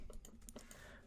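Rapid typing on a computer keyboard while writing HTML boilerplate, with a steady stream of close, crisp key clicks and no voice.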